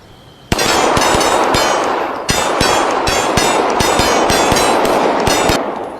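Rapid gunfire in the ACE VR shooting game, a loud close burst of sharp repeated shots in quick irregular succession that continues for several seconds after one abrupt onset, with a brief dip midway.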